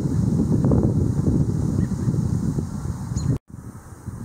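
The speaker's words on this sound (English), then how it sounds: "It's pretty windy." Steady wind buffeting a microphone, a constant low rumble with gusty swells, cutting out abruptly near the end before resuming.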